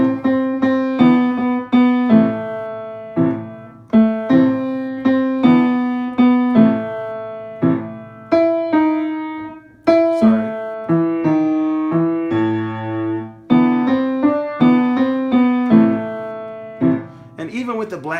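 Piano playing a beginner piece transposed onto a different set of keys, a simple melody of clear, evenly struck notes with sustained decays, played alone and close.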